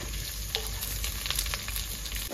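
Chopped ginger, garlic and onion fry in hot oil for a home-style chicken and potato curry. The dense, loud, unbroken sizzle carries a few small crackles and stirring ticks, and no one speaks.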